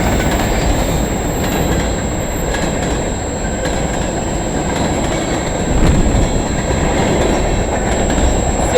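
CN freight train M301 rolling past in London, Ontario, a steady loud rumble of wagons with clattering wheels and faint squeals, continuous throughout with no voices.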